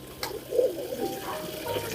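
Crested fancy pigeons coo softly at a distance, a low, murmuring call over a steady background hiss.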